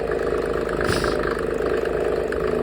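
A Mercedes OM606 3.0 diesel drives a PN-40 pump unit in a steady, close, loud run with a fine mechanical clatter, alone without voices.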